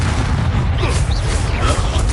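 A loud, dense blast from the Confringo fire spell in Hogwarts Legacy booms continuously with heavy low rumble, with no voices over it.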